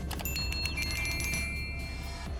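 A bright bell rings a few quick chimes, its clear metallic tone lingering and fading over a couple of seconds.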